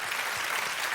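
Studio audience on a French TV music show claps in a brief, steady burst, many hands blending into a dense continuous patter.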